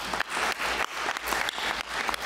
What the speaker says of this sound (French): Je propose qu'on applaudisse Daniel Charles.